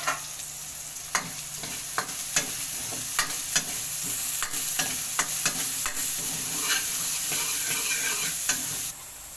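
Chopped onion frying in hot oil for a pork stew: a steady crackling sizzle with repeated sharp clicks and scrapes of a spatula against the pan at irregular intervals, with no talking.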